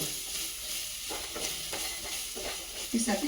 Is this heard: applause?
no